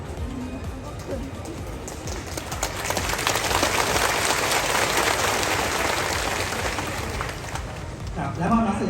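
An audience claps at a ceremony, a sustained wash of applause that builds and holds for several seconds, with voices audible at the start and end.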